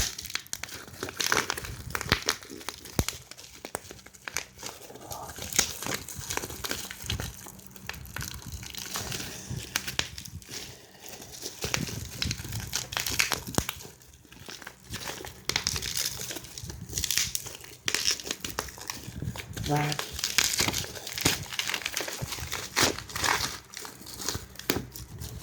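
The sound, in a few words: opening the box of a TUA pocket wifi, crinkling packaging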